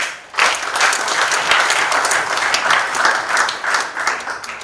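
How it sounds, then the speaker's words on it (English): An audience at the Nkumba International Research Conference breaks into steady applause, dense clapping that starts abruptly and holds at an even level throughout without speech over it. "let's give a hand clap again to Deji University"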